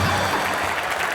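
A comedy show studio audience claps at a joke, a dense loud burst of applause filling the whole moment without speech.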